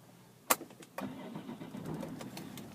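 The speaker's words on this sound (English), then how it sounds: "Getting the car started." A silver BMW 530D M Sport automatic diesel cranks with a sharp click, then the engine catches and settles into a steady, close idle rumble, with no voices.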